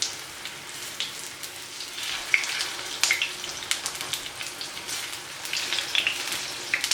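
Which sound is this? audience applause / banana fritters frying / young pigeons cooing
banana fritters frying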